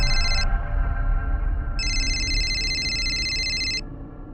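A telephone rings in two electronic bursts, a short one then a longer one, bright and loud over a low background hum.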